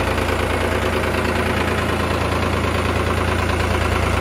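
A tractor engine runs with a loud, steady low rumble and an even knocking throb, heard close and continuous on the way to a grain market with a trolley.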